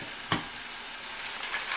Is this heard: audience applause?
no